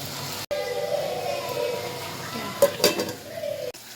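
Amaranth leaves go into a pan of tomato curry and get stirred, a steady soft sizzle under scraping spoon strokes and a few sharp clinks of metal against the pan near the end.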